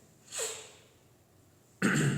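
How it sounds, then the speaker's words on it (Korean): Two separate coughs sound close and clear, a short one early and a harsher one near the end, with quiet pauses between and no speech. "계속 기침이 나가지고"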